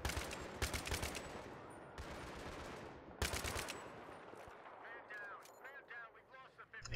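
Bursts of gunfire in Battlefield 3 crack out in loud rapid volleys, pausing between strings of shots, with a teammate's voice talking over the quieter stretches near the end.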